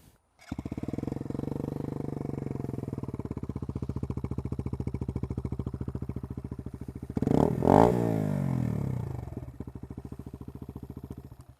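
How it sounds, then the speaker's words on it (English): A Lexmoto Adrenaline motorcycle with an aftermarket exhaust, baffle removed, idles with a loud, throaty, rapid pulsing exhaust, briefly blipped to a higher rev midway before settling back to a steady idle. "I'll start the bike so you can hear it."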